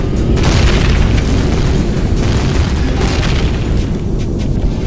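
Explosions boom continuously in the vehicular combat game Death Race, a dense, loud, rumbling barrage of blasts and bursts with no pauses, heavy low-end throughout.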